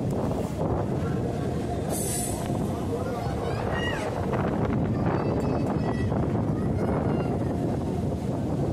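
A Howrah–Tarakeswar local train runs along with a constant loud rumble and rattle of wagons, wind buffeting the microphone, and a few brief squeals rising over the steady roar.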